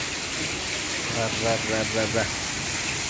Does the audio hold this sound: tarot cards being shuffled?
no